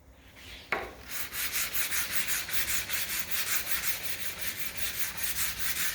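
Mahogany tongue-and-groove boards are hand sanded with 180-grit sandpaper in quick, regular back-and-forth strokes, close and steady after a single sharp knock at the start.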